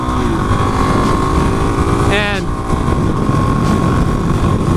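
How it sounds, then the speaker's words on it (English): A motorcycle engine hums steadily against heavy wind rush, with a quick rising rev blip as the rider downshifts and the engine brakes. Someone talks over the riding noise. "if I downshift, and you get that little hunch forward from the engine braking"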